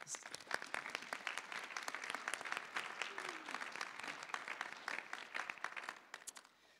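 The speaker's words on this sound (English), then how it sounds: "Melly, would you please stand for one more round of applause?" Audience applause fills a college winter convocation hall, a steady dense patter of many hands clapping for several seconds before tapering off near the end.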